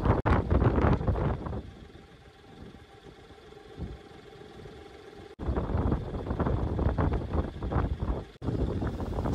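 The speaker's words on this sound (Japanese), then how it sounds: "時間帯と風向きのせいか釣り場はなかなかの強風。" Strong wind buffets the microphone at a seaside fishing spot on Izu Oshima, roaring in heavy gusts at the start and again in the second half, with a calmer lull between.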